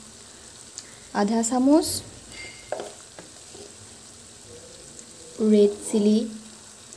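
Onions frying with cumin and red chili spices in a pan give a steady, close sizzle throughout, with a voice speaking over it in two short stretches.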